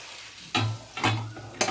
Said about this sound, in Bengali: আর 1 মিনিট নাড়িয়ে আমি ভালো করে ভাজা ভাজা করে চলুন এবার নামিয়ে নিই।